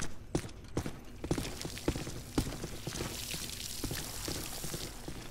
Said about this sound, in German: Da, da plätschert doch was.